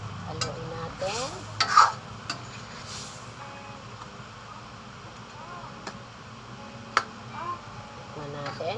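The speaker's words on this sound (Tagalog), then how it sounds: "Haluin natin." Chicken curry stirred in a pan, a spoon scraping and clinking against the metal with a soft sizzle underneath, a few sharp knocks, and speech heard faintly in places.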